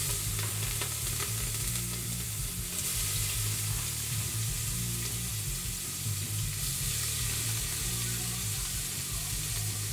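Onion frying in hot oil gives a loud, steady sizzle, dense and continuous throughout with faint stirring and no voices.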